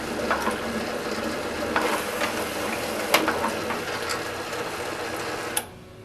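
An Advent 300 labeler applies a label to a one-gallon jug, producing a steady mechanical whir with scattered clicks and a sharper clack near the end before the motor stops.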